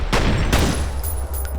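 Pistol fire in the shooter game F.E.A.R., with two sharp, loud shots about half a second apart followed by fainter reports and a low rumbling tail, with no talking.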